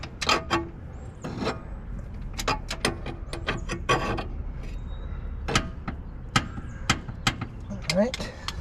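A ratchet wrench clicks in short, irregular bursts while tightening front suspension bolts on a CB7/CB9 Honda Accord, close up, with occasional metallic clanks and pauses between runs.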